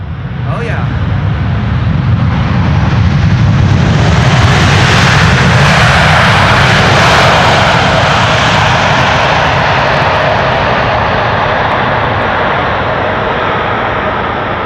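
Jumbo jet airliner arriving at Amsterdam Schiphol Airport, a loud sustained roar of engines that swells and stays strong throughout.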